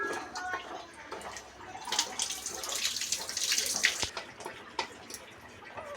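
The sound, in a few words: tamarind juice being poured into the masala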